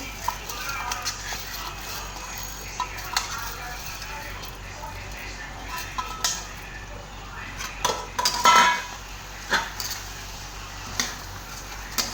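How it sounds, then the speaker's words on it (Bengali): Soaked rice goes into a pot for homemade biryani, with scattered metallic clinks and scrapes of a spoon against cookware, plus a cluster of louder knocks near the end over a quiet kitchen background. "চালটা দিয়ে দিচ্ছি, সোক করা ছিল।"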